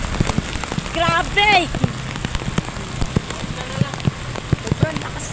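Heavy rain pours down hard in part of Caloocan, a dense steady hiss of drops striking surfaces close by, with a few brief exclamations from a person nearby.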